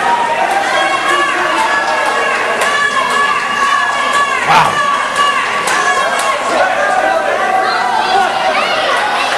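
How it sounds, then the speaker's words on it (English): A wrestling arena crowd in Winnipeg roars and cheers in a sustained wash of shouts and chatter, with a commentator talking over the din. "The crowd is sure showing their appreciation."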